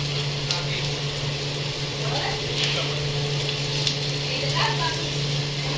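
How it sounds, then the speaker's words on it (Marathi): Cooked rice stir-fried in a pan for Indian phodnicha bhaat makes a steady sizzle with occasional soft scraping and clinks of a spatula. An even electrical hum sits underneath. "आपण भात व्यवस्थित परतून घेतलेलं आहे"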